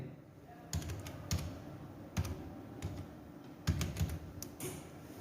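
Quiet, uneven keystrokes tap on a computer keyboard as C program code is typed, with light clicks close by.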